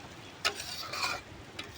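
Flour roasts in a pan for sukhdi while a spoon stirs it, making scraping strokes over a soft dry sizzle in short bursts.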